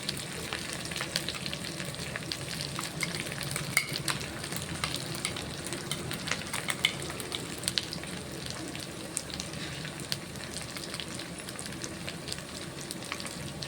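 Ginger garlic paste fries in hot oil in a pan while bagara rice with coconut milk is being cooked, a loud, dense, continuous sizzle and crackle with occasional stirring scrapes.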